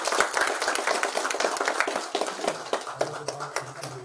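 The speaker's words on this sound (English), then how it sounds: "please give a warm round of applause to Deepak as he joins us" Applause from a summit audience as a guest joins a fireside chat, steady dense clapping that tapers off over a few seconds, with a voice starting near the end.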